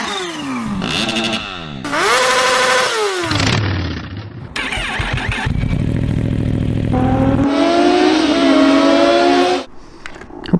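A motorcycle engine revs at the start of a ride. Loud rising and falling pitch sweeps come in several abrupt segments, ending in a sudden drop to near quiet.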